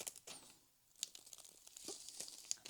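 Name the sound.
silver tape being applied to a flexible HVAC duct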